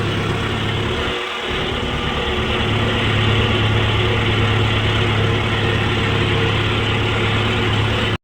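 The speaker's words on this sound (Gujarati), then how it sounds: "અટાણે જીસીબી ચાલુ થઈ ગયું" A JCB excavator engine runs steadily on a farm field, a loud, continuous diesel drone close by with one brief dip early on and no voices.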